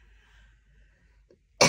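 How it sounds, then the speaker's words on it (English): A single sharp, loud cough bursts out near the end after a quiet indoor stretch, close to the microphone with a brief broadband burst. "keep coughing"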